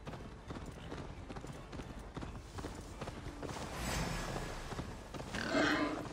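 Horse hooves clip-clop steadily in Assassin's Creed Valhalla, with a rising roar and other game noise swelling beneath them.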